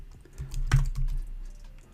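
A few quick keystrokes on a computer keyboard, close and fairly quiet, forming a short burst of clicks with one sharper tap in the middle, in an otherwise quiet room.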